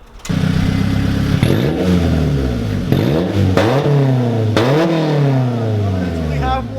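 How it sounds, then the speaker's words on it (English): Honda S2000 with a straight-pipe exhaust from the cat back, revving hard in repeated loud rising-and-falling bursts close by, with people talking and reacting over the engine. "That actually sounds really good for being a straight pipe from the cap back"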